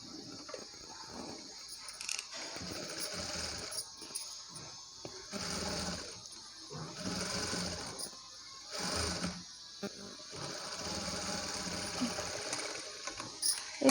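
A sewing machine stitches a baby blouse in repeated whirring runs of rapid needle clatter, each burst a second or two long, separated by short pauses with faint mechanical clicks, close and moderately loud.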